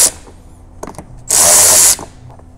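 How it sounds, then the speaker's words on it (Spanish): A cordless drill removes screws from a door trim cover on a 2004–2007 Nissan Armada driver side door in one loud, close burst of about half a second of whirring, with a few light clicks before it. "Retiramos los tornillos"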